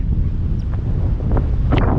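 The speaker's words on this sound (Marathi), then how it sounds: "खूप वारा आहे त्यामुळे माझा आवाज कदाचित तुम्हाला नीट येणार नाही" Strong wind buffets the microphone at a hilltop sunset point near Pune, a loud steady low rumble with gusty surges throughout.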